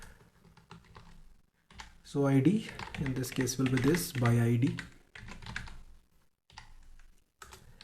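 Quick clicks from a computer keyboard tap out code in irregular bursts, with someone talking over part of the typing.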